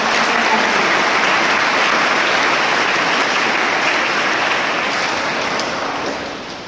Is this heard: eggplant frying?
no